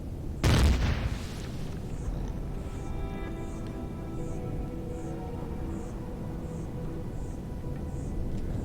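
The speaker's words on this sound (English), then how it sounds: "Something or someone's shooting at us." A single heavy boom bursts out at the start in the Empyrion space survival game, then decays into a long humming, droning ambience with faint repeating pulses and no talking.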